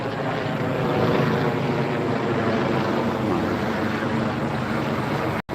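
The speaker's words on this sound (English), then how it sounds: "So it looked like probably a rescue helicopter of some sort." A rescue helicopter passes overhead with a loud, steady drone and constant rotor roar that stays close and unchanging, then cuts off abruptly near the end.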